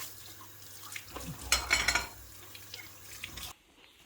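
Tap water running into a kitchen sink, a soft splashing stream with a brief louder gush in the middle, faint and close, cutting off abruptly near the end.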